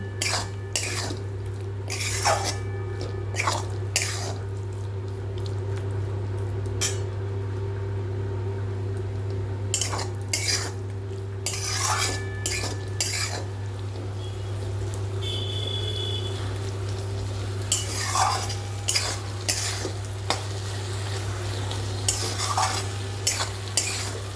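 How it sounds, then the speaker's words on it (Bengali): Okra with mustard and poppy seed paste is stirred in a pan, a spatula scraping and clacking in irregular bursts over a faint sizzle and steady low hum, with no voices. "ভালো করে নাড়াচাড়া করে হালকা জল দেব।"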